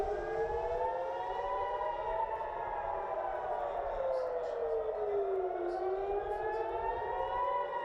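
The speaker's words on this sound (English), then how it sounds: "Nearly the entire country of Israel heard these sirens" Civil defense air raid sirens in Israel wailing during an Iranian ballistic missile attack, their long tones rising and falling in overlapping waves, heard from a distance over a low rumble of background noise.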